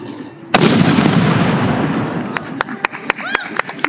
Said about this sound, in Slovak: Streľba z dela!